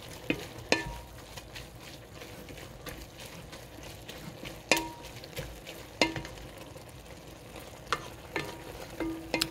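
Seaweed stir-fried in a pan with perilla oil: a soft, steady sizzle broken by scattered scraping and clacking of the utensil against the pan, with a few sharper knocks, all fairly quiet and close.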